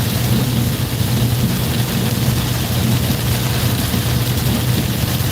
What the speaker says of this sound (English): Wow, it's really coming down now.